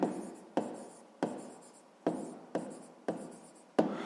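Handwriting on paper, likely pen on a school exercise book during a grade 6 maths exercise, heard close up as seven separate bursts of scratchy strokes, each starting sharply and then trailing off, with no voice present.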